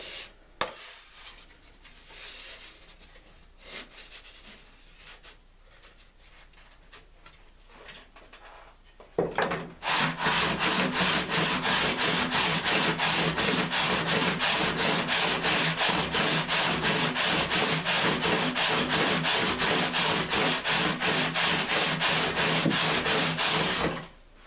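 Sitka spruce guitar top edges are sanded by hand with steady, rhythmic back-and-forth rasping strokes, close and loud, after a quieter stretch of faint handling noise.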